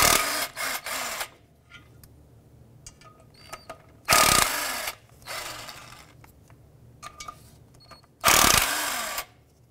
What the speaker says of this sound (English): I prefer to use electric tools over air tools for this just because it doesn't blow all the dust around